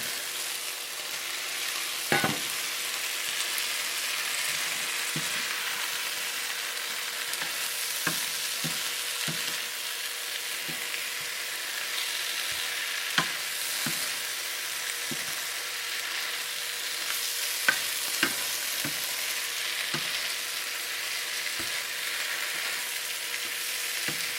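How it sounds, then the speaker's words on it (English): Fish, onions and cilantro stir-fry in a wok with chili bean sauce, giving a steady loud sizzle broken by scattered sharp clicks of a utensil scraping and tossing, with no talking. "then we're gonna put the onions and cilantro and the fish in it"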